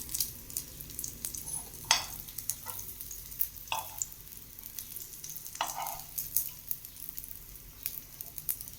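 Chickpea patties frying in a pan, a soft steady sizzle broken by a few brief scraping clicks as they are flipped, fairly quiet and close.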